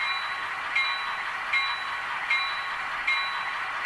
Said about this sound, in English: It's a nice, crisp bell.